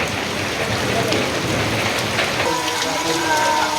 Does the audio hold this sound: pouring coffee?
no